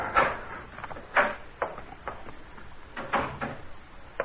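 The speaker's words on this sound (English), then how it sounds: "The knob was turning in the door." Audio drama effect of a door knob turning and a door opening: a series of soft wooden knocks and rattles, close and moderately loud, spread in irregular bursts with no speech.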